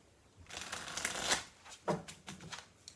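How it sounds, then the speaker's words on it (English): Rapid riffling and flapping of a tarot card deck being shuffled, a long burst followed by several shorter crisp riffles, close and fairly loud. "One more shuffle."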